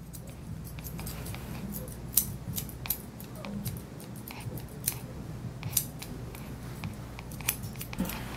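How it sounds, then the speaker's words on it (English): Repeated crisp snips of grooming scissors trim a Yorkshire Terrier's coat, coming close up in quick uneven clusters. "You can just trim all that hair out and around."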